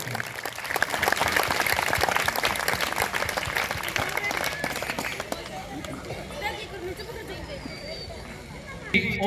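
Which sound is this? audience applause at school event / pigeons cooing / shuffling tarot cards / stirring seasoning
audience applause at school event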